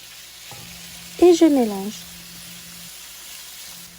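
Chicken and onions fry in a pan while being stirred; a steady low sizzle runs throughout, with a short spoken phrase in the middle.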